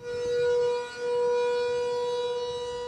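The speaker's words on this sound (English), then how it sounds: "Blaring sirens" Loud, steady wailing sirens blare continuously, with a brief dip before rising again, no voices present.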